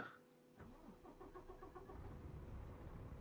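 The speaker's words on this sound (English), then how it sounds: "start up the engine." A truck engine in American Truck Simulator cranks briefly and then catches, settling into a steady low idle rumble after a quiet opening.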